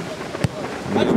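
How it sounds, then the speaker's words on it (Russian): Thunder from a lightning strike just beyond a line of trees: a single brief, loud rumbling burst rising out of steady outdoor background noise. "Гром."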